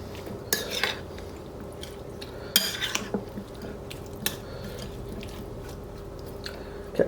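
Salad being tossed with an apple cider vinegar and onion dressing in a bowl, with utensils knocking out several sharp, close clinks over a soft, continuous mixing rustle.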